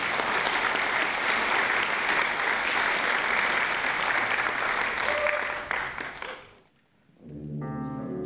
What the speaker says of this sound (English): Let us give David a rousing round of applause